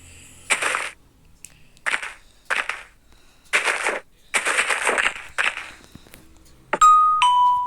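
Several sharp, noisy bursts come first, then a bright electronic doorbell chime rings out clearly near the end.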